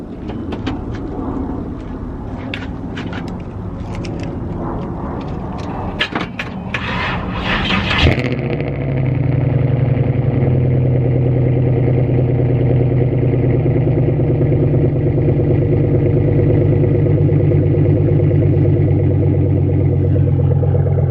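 Buick LaCrosse Super with an overheating fault cold-starting: several seconds of scraping and clicking, then the engine catches with a surge and settles into a loud, steady, close idle hum that runs on alone.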